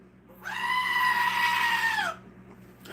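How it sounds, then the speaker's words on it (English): A loud, sustained goat scream, a single long nasal bleat lasting over a second and a half, close and alone with no talking. "Goat scream."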